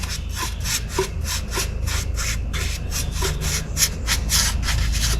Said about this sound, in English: you just brush it on and it will go quite a long way because it's quite watery